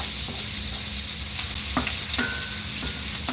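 Food browns in butter in a hot pan with a continuous close sizzle. A few sharp clicks and scrapes of stirring stand out, and no voice is heard.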